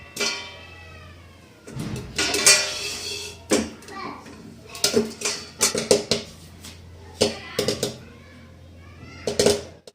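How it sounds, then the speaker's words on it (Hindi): Corn kernels pop in hot ghee in a kadhai while being stirred, with irregular sharp pops and metallic clatter scattered in clusters over a low background hum, alongside a high voice-like sound near the start. "मैंने डाल दिया इसमें फटाफट मक्का पॉपकॉर्न बनने के लिए, और इसको इस तरह से लगातार चलाते रहेंगे और ये फूटते रहेंगे"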